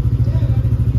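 Motorcycle engine idling after an oil change with Shell Advance, a loud, close, steady low throb with an even pulsing rhythm throughout.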